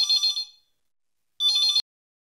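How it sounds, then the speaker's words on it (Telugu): A telephone handset gives a bright electronic tone in two separate bursts, the first about half a second and fading, the second starting after a pause and cutting off sharply. Loud and clear, with no talking. "అరే దీని డైల్ టోన్."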